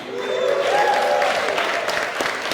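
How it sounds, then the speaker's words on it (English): Loud, dense applause from a comedy club audience greeting a headlining comedian, with scattered whoops rising over the clapping before it thins out. "Start clapping now."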